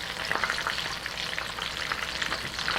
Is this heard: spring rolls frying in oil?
yes